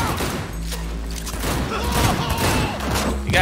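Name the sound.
gunfire in the video game Cyberpunk 2077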